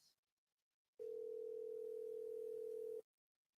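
A single long electronic tone on an outgoing phone call, a steady steady-pitched beep lasting about two seconds, starting abruptly after near silence and cutting off cleanly.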